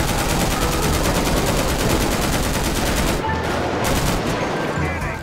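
Gunfire in the GTA V video game, a steady, rapid stream of loud automatic shots hammering continuously for several seconds before easing off slightly near the end.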